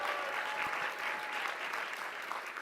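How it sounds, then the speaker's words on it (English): An audience claps together in a steady, dense round of applause at an on-stage interview event, faint and even throughout with no voices over it. "let's have a round of applause"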